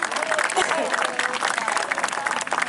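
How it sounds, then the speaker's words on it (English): Polite scattered clapping from a crowd at an outdoor Powerland 2019 event honoring a historical Army of the Willamette reenactment regiment, steady and moderately near with speech mixed in. "let's give him a golf clap, ladies and gentlemen"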